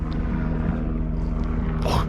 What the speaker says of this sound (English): You can hear a helicopter flying above me right now.